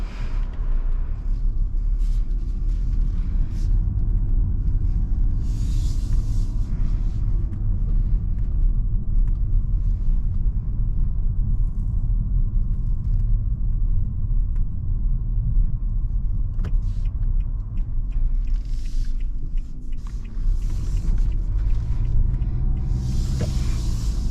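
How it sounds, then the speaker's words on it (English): Interior road noise from a 2022 Nissan Altima SR on a test drive: a constant loud low rumble of tyres and engine, with occasional faint clicks and brief wind or hiss swells. "let's go ahead and take this SR on a test drive and see how it does"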